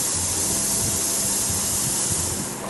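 Steam hisses steadily from a pressure cooker of salted pav bhaji ingredients, a loud, continuous rushing whistle that barely changes over a few seconds, with no one speaking.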